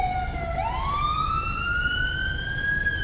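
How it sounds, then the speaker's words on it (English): A police car siren in the video game LSPDFR wails steadily, its pitch sweeping upward and holding high over a constant low rumble of road noise. "Alright, we'll kill the siren."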